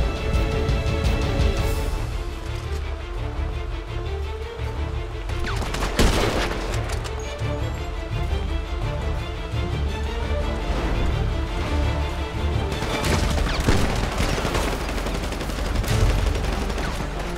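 Sustained gunfire in GTA 5 roleplay, dense continuous bursts of automatic and rapid shots with heavier cracks around the middle and later on, loud and unbroken throughout.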